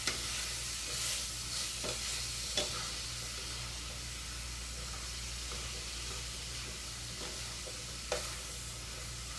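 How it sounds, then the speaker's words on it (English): Potatoes are stirred and mixed in a pot while they cook for a vegan creamy potato kale soup, with faint scraping and soft clicks over a quiet sizzle and a steady low hum. "once the potatoes are in is I really do like to mix it all together"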